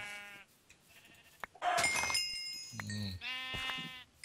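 Sheep bleat in a modded survival video game, several calls with a sharp, buzzy cry in the middle, close and fairly loud over a quiet game background with no talk.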